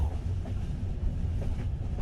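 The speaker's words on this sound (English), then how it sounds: "The raindrops knocked a steady rhythm on the train, and the wheels below kept at their moving tempo." Train wheels roll steadily on the rails in rain, a continuous low rumble with faint rhythmic clacks, close and even throughout, with no voices.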